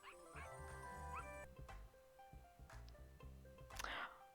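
Puppies in the video game The Sims 2 give soft whimpers and small yips over a continuous game music bed, fairly quiet throughout.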